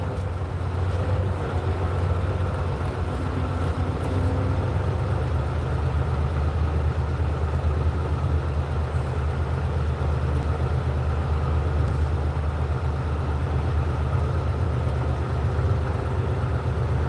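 A semi-truck engine idles nearby as a steady, deep rumble with a constant hum, holding unchanged throughout with no voices.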